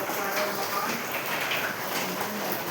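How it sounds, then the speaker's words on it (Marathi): Heavy rain drums steadily on a tin sheet roof, a dense hiss of patter throughout, with a voice talking over it. "बघू शकता किती पाऊस पडत आहे वरून पत्र्यामध्ये"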